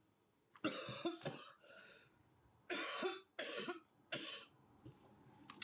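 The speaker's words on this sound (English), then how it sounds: "annoying tickly coughing fit" A tickly coughing fit, several harsh bursts of coughs and throat clearing in quick irregular groups, close and fairly quiet with no talk.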